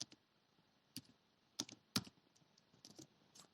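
Keys on a computer keyboard are typed in short irregular bursts, crisp clicks close to the microphone with quiet pauses between them.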